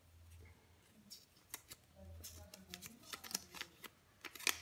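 Scissors snip a small hole in a folded origami paper tulip: several faint, sharp, close cuts with a little rustling of paper, in a quiet room.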